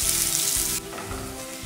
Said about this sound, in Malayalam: എണ്ണ ചൂടായി വന്നിട്ടുണ്ട്, അതിലേക്ക് നമുക്ക് കടുക് ഇട്ട് പൊട്ടിക്കാം.